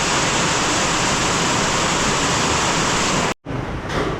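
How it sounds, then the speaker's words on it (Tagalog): Heavy rain pours down loudly in a dense, unbroken roar at a building site with dry wall partitions, cutting out abruptly near the end before resuming. "Umulan nga."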